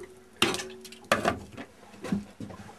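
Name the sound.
kettle set onto top-loading boat stove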